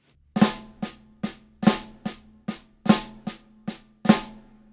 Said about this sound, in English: play these as left-handed flam accents, which slow down sound like this